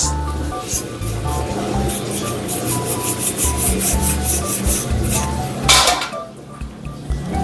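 Rusty metal tools being rubbed and scrubbed, a steady gritty scraping with occasional light metallic clinks, close up and continuous.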